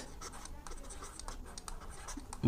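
A pen scratching out a set-and-function math solution on paper, short quick strokes in an uneven rhythm, close and fairly quiet, with a louder knock at the very end.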